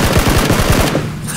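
Rapid automatic gunfire in the battle royale game PUBG, a fast burst of loud cracking shots that stops abruptly near the end, leaving a quieter hum behind.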